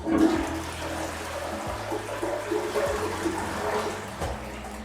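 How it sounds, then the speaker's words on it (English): A German toilet flushes, and water rushes and swirls steadily throughout, fairly close and loud, with faint knocking sounds underneath. "when you flush them, they tend to do this swirl"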